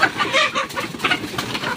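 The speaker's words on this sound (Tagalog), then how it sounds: "Ayan o, may mga manok." Chickens clucking and squawking close by, a busy overlapping chorus of short calls with a rooster-like cry mixed in.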